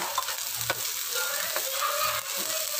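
Potatoes and cauliflower frying in hot oil for aloo gobi, a steady close sizzle and crackle broken by the occasional scrape of a stirring spoon, with no talking.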